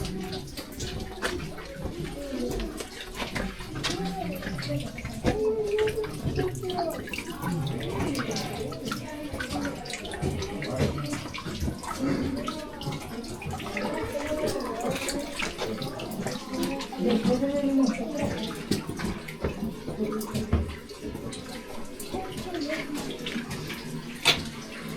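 Water trickles and drips continuously inside a show cave, a steady splashing flow close by, with voices murmuring faintly over it.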